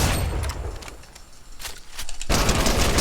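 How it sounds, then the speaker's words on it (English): The Fortnite drum gun fires in rapid bursts of dense crackling shots, loud and close, easing off briefly before a fresh burst erupts, with no voices. "So if you get the drum gun, you can shoot."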